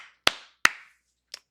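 Hand claps, two sharp close claps a moment apart followed by a fainter third, in a quiet room.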